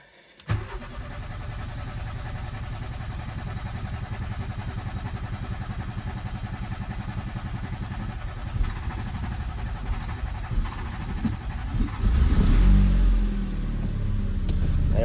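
A 1.8T VW Corrado engine cranks and catches, then settles into a loud, close, steady idle with a lumpy, clattery running note, rising briefly as the engine is revved near the end; no voices.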